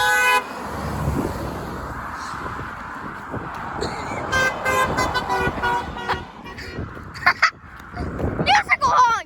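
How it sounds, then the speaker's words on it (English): A musical car horn plays a short honking tune in the street, loud and close, with several distinct note bursts among traffic noise; voices speak briefly around it. "Musical honk."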